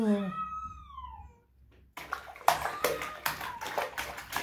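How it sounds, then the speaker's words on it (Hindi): A child splashes and slaps water in a bathtub at home, with rhythmic sloshing bursts after a brief pause, following a child's high-pitched voice at the start. "अच्छा चलो बस पानी से मत खेलो ना।"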